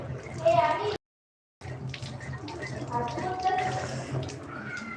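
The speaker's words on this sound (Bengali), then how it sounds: "দাঁড়ান হাত ধুয়ে নেই" Tap water runs steadily into a sink as hands are washed indoors, with voices talking over it and a brief silent gap partway through.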